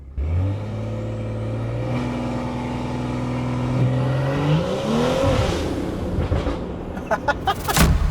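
A BMW with a B58 engine and downpipe tune pulls hard from inside the car, a loud rising drone climbing through the gears with a brief dip at a shift, ending in sharp crackling pops.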